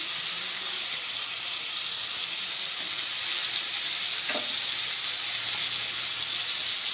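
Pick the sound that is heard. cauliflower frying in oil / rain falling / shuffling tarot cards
cauliflower frying in oil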